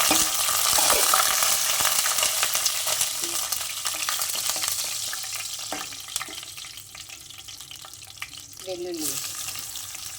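Dried red chillies frying in hot oil in a pan for a bitter gourd pickle, giving a steady broadband sizzle that slowly fades, with light stirring clinks and a brief voice near the end.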